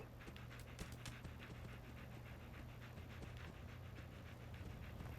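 A dog pants in the video game Fallout 4, a quick, steady run of short breathy huffs that stays fairly close and faint above a low, constant in-game hum.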